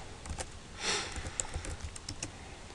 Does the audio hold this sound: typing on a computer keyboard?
yes